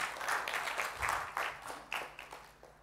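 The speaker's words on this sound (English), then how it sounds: "I would give him a round of applause for that." Audience applause at a talk on agile testing: soft, scattered clapping heard fairly distant and faint, tapering off over a few seconds.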